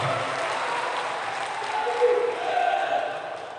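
An audience claps for a Hindi heroic-verse poet at a kavi sammelan, a sustained wash of applause from a large hall with a faint voice in the mix, swelling slightly toward the end.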